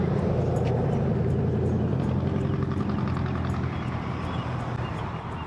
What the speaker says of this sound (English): had to wait for the loud cars to pass